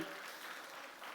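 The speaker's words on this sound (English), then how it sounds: "Could anybody give me a round of applause?" A short burst of audience applause rises faintly during a talk on stability amid uncertainty: a brief, even patter of many hands clapping at a distance.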